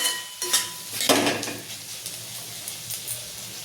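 A spoon scrapes and turns mixed vegetables with crushed peanuts in a pan, a few loud stirring strokes early, then a soft steady sizzle and light clinks.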